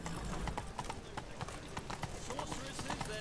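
Horse hooves clip-clopping at a gallop in the video game The Witcher 3, a quick rhythmic run of hoof beats close by under a busy game soundscape.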